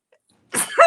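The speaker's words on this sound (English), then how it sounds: "I don't usually sneeze on the show." A single close, loud human sneeze bursts out abruptly after near silence and cuts off quickly.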